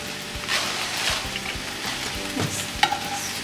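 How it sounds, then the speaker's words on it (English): Chopped mushrooms sauté with a pinch of salt in an Instant Pot, giving a steady close sizzle with occasional soft scrapes and clicks of a utensil stirring, and one sharper knock near the end. "we're going to let those saute and let those mushrooms sweat"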